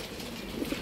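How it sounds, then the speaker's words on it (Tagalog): Pigeons cooing softly inside a loft, a few low murmuring coos rising near the end over a steady background hush. "Andiyan po sa loob yung mga ibon."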